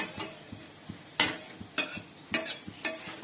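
Fish frying in a pan for a Bengali home-cooked dish while a utensil stirs it: sharp scraping stir strokes at a steady pace about every half second, over a soft sizzle up close.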